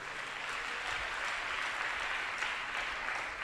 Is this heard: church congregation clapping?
yes